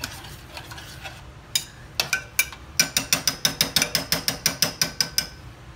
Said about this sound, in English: So I'm gonna stir that around like that.